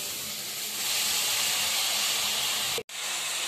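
Radish leaves and grated radish sauté in a hot pan, giving a steady loud hiss of steam that runs for about three seconds, cuts off sharply for an instant, then carries on.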